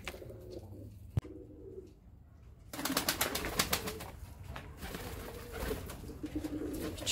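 A 17-year-old pigeon cooing with soft low coos, a sharp click early on, then rustling and fluttering noises close by.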